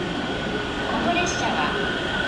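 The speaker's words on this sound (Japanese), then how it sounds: "発車します列車は17時20分発普通列車岐阜行きです。" A local train pulls out of Kanayama station in Japan, a steady rumbling hum of the four-car train with a brief higher squeal partway through, heard up close on the platform.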